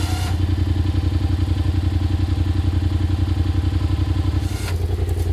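ATV/SXS winch motor pulling under load, a loud, steady, close mechanical drone with a rapid pulsing rhythm that runs continuously and shifts slightly near the end.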